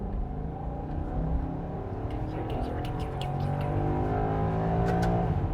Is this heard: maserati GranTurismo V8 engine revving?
yes